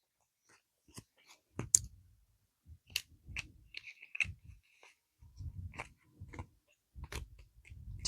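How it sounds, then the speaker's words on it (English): Crisp clicking and soft slapping of tarot cards being shuffled, irregular taps and riffles close to the microphone, with no voices. "Just finishing up shuffling the cards"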